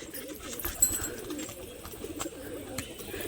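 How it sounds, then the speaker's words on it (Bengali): Rajshahi Giribaj pigeons cooing softly at close range, low murmuring coos repeating through the whole stretch with a few brief sharper sounds from the birds, no talk over it. "তো সেই কারণে পায়রাগুলো দেখাচ্ছি।"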